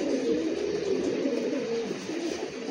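A pigeon at a breeder's home loft coos softly and continuously, a low, fairly faint murmur with no talking over it.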